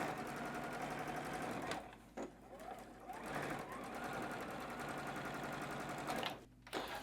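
A sewing machine runs steadily while stitching quilt block pieces, with a short pause partway through and another near the end, its rapid mechanical whir close and continuous.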